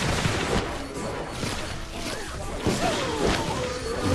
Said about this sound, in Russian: Блин, вот тебе взрывы.